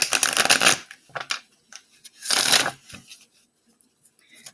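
A tarot deck is shuffled close up in two quick riffling bursts, crisp papery card flutters separated by softer handling taps and brief pauses.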